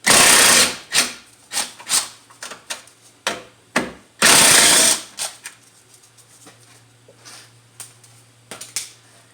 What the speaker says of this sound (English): So I'm going to remove these two 10mm nuts here